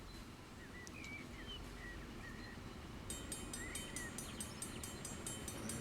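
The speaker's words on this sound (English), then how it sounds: "And this engine crossing is beeping away. It's got a bell, let you know it's coming." A regular electronic bell dings repeatedly at a steady pace at a railroad crossing in Transport Fever 2, over a low rumbling 10-wheeler steam train, with faint chirps in the background.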